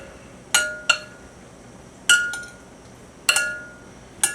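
Okra pods coated in oil being stirred in a glass or ceramic dish, five sharp clinking taps at irregular intervals against a quiet background.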